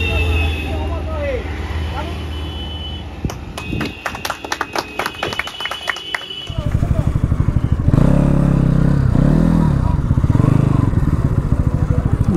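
Motorcycles at an Independence Day bike rally, engines idling and revving close by with a rapid rumbling pulse that grows louder partway through, with people talking around them.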